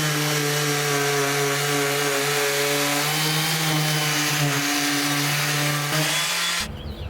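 A power sander works over carved wooden tiki bar trim, sanding off marker lines in a loud, steady motor whine with a constant hum that holds throughout before cutting off abruptly at the end.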